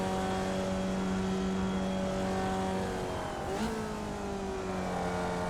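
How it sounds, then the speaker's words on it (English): A Formula Vee race car holds a steady engine drone on track, near and loud, with the pitch dipping briefly mid-lap before climbing again as it keeps driving. "this Formula Vee car is a lot of fun to drive"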